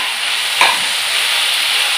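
Tomatoes cook in a hot pan with green beans for a masala subzi, producing a loud, steady hiss and sizzle with one brief stirring scrape near the start.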